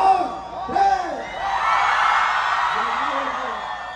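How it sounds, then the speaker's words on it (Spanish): A large concert crowd at a show yells and whoops in a loud, sustained roar, swelling after an amplified voice on a microphone counts in with mixed voices and reverberant shouting. "Tenemos un grito de aquí hasta Culiacán y hasta Guadalajara, pero bien machín en la cuenta de tres"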